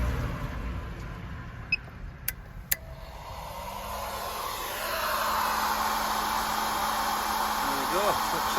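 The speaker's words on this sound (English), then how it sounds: "So if I turn the inverter on and that hairdryer comes on," A hairdryer powered through an inverter switches on after a few clicks and runs with a steady, loud whooshing motor hum that continues to the end.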